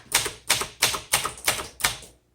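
Six crisp, evenly spaced key strikes on a 1969 Royal Lark portable typewriter, typed slowly and deliberately, each a sharp mechanical clack with a short decay, close and alone.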